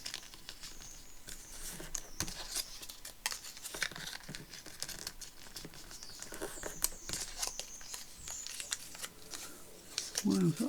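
Paper creased and folded over repeatedly for a Tim Holtz folio-style journal, giving soft crinkling, rustling and sliding strokes in an uneven rhythm, close and fairly quiet throughout.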